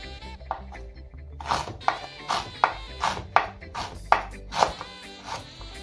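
A knife chops an onion on a board for a curry goat paste: about eight crisp, evenly spaced chops that are close and clear, with a faint background hum.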